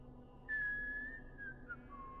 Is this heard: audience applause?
no